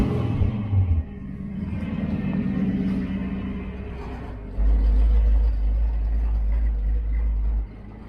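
A cammed Ford Mustang Fox-body engine idles with a low, loping rumble, then swells into a louder, heavier drone for about three seconds before settling back to idle.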